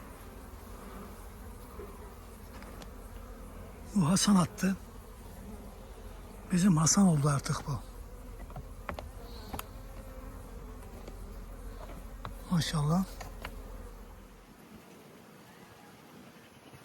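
Honeybees buzz steadily at an open hive with Carniolan-type and papaz bees and drones present, a continuous close hum running throughout while someone speaks in short bursts over it.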